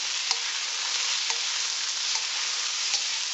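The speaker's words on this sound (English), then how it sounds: "we're going to saute these vegetables for approximately about 1 minute" Bell peppers and portobello mushroom sautéing in a pan, a constant bright sizzle with a few soft clicks from stirring spaced about a second apart, steady and close, no voices.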